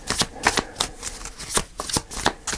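A deck of tarot cards is shuffled up close in a rapid series of crisp riffling bursts, with several quick shuffles one after another.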